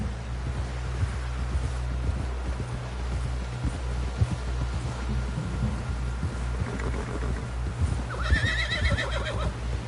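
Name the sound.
horse neighing and hooves clip-clopping, from video game Red Dead Redemption 2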